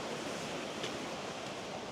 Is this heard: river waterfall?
yes